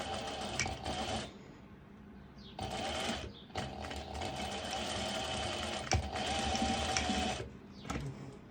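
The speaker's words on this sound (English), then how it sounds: "I am going to place it underneath the foot and do a straight stitch over" A sewing machine runs a straight stitch on swimsuit fabric in several close, loud bursts of rapid mechanical clatter, separated by short pauses and quiet handling noises.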